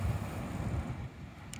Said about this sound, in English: Just press and hold that remote start button again,